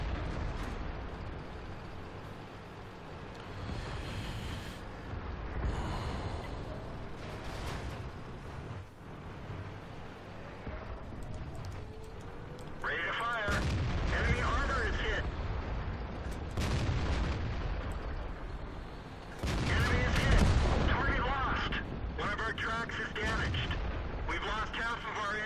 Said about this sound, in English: the artillery is coming to the rescue